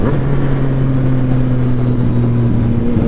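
A Yamaha FZ09 motorcycle engine while riding, a loud, steady droning hum with wind rush, constant and close throughout.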